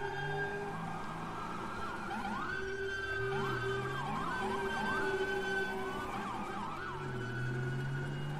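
A wailing ambulance siren in the video game GTA V, with FiveM roleplay, rises and falls continuously in loud overlapping sweeps, alongside a steady droning tone, with no talking.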